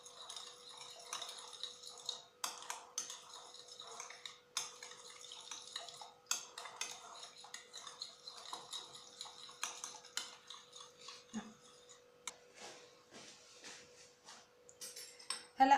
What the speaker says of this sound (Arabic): أول إشي بنحركهم مع بعض حتى يمتزجوا منيح